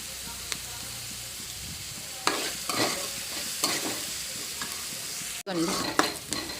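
Spices for a besan (gram flour) curry fry in a pan, with a soft sizzle under repeated scraping stirs of a spoon against the pan. The stirs come in irregular bursts and grow busier toward the end.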